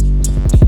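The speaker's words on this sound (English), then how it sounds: "Oh, and then I added this little kick roll too." A brief, loud roll of kick drum hits rises step by step in pitch within a remixed hip-hop beat. Bright percussive ticks sit over it.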